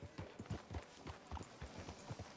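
Horse hooves clip-clopping in Red Dead Redemption 2 near a train station, a faint, steady series of soft thuds at a walking pace, about a dozen low knocks with light background noise.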